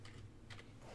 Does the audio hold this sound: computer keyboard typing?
yes